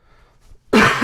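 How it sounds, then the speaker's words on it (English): One sharp, loud cough bursts out near the end after a short quiet lead-in, close to the microphone. "Sorry, I had a cough."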